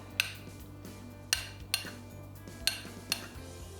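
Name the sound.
vegetables spooned over a potato layer for vegan lasagna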